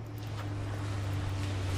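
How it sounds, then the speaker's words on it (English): A low, steady engine drone hums and slowly grows louder, like a motorboat drawing nearer over wind and water. "Sounds like a boat to me."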